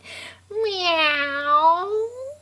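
A voice imitates a cat's meow with one long, drawn-out sliding tone, close and clear, during a toddler music lesson with a picture book.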